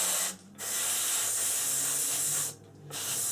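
Close, loud bursts of aerosol spray from a can of Tamiya XF19 paint coating a Revell C-17 Globemaster III model kit, a steady hiss broken by two short pauses.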